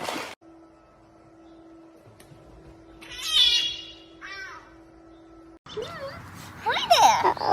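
A cat meows in a quick run of calls, with a few short mews in the middle and a louder burst of cries near the end over a faint steady hum, while people speak and react nearby.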